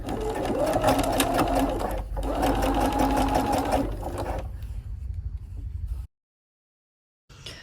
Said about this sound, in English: I recommend you sew from the folded edge right in that stitch line.